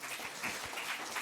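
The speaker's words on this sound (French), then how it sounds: "Est-ce qu'on peut l'applaudir encore ?" A conference audience applauds a speaker, a soft and fairly distant spread of clapping that goes on evenly through the whole short moment.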